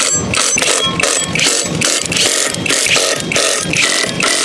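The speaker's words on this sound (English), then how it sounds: "blue Loctite on the studs and impact those nuts back on" A pneumatic impact wrench hammers motorcycle sprocket nuts back onto Loctite-coated studs, a loud, close, rapid rattling burst that runs continuously with no speech.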